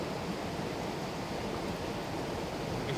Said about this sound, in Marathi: मस्त धबधबा आहे छोटासा